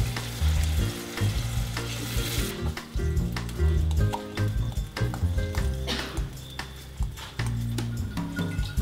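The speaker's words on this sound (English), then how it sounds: "She adds a small amount of minced beef she fries it until it is browned" Minced beef frying until browned in an Abruzzo home kitchen, a loud close sizzle with repeated spatula scrapes and clinks against the pan, overlaid by low tonal background music and no talking.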